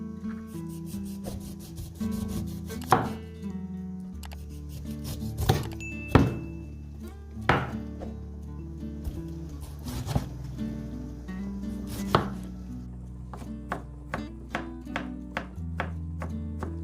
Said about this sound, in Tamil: அன்னாசியை கட் பண்ணி எடுப்போம் அப்படின்னு தான் கட் பண்ணி எடுத்துட்டிருக்கிறேன்